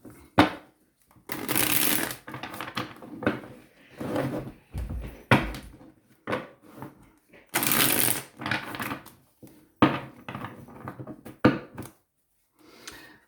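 Wicca tarot cards are shuffled repeatedly by hand, bursts of riffling and sliding alternating with brief pauses and soft taps, close and fairly loud, with no voice heard.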